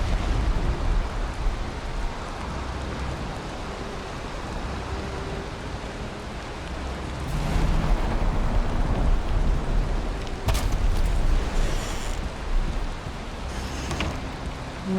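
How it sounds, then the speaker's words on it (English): Steady rain hisses down in the video game Valheim, a dense even wash that swells louder midway, with a few sharp crackles near the end. "And now it's raining."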